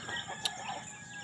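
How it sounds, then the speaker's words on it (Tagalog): A rooster or hen on a small farm gives a brief sharp call amid soft clucking and steady outdoor ambience, close by and clear. "Mga manok."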